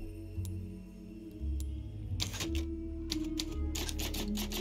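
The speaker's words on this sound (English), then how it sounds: "Yeah, I know how the typewriter works." Typewriter keys clacking in the video game Resident Evil 4 Remake, a rapid burst of mechanical taps over a low humming game backdrop, close and alone.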